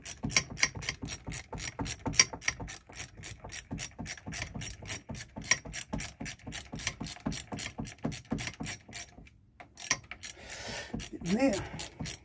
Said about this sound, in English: So I'll grab a little socket here, and we'll just tighten this up.